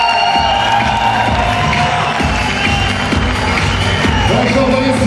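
A crowd at a fight event cheers and shouts continuously after the bout ends, a loud dense roar with whoops and applause mixed in, sustained throughout.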